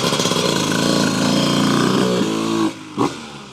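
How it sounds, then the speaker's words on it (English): A 1997 Honda CR125R two-stroke motorcycle engine running close by, a loud buzzy rasping note that holds steady and rises slightly, then drops off abruptly with a short blip of revs near the end. "Check out this classic 1997 Honda CR125R."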